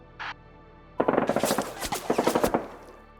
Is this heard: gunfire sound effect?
yes